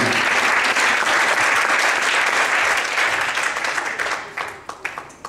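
Church congregation applauding loudly at a service, dense sustained clapping with some cheering that gradually thins into scattered individual claps at the end.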